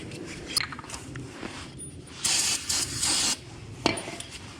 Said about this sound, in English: Now what you want to do is just get these cleaned up with some brake clean